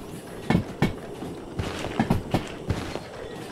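A train runs in the Derail Valley simulation game, with a rhythmic series of clacking thumps at uneven intervals over a continuous low rumble, fairly close and moderately loud.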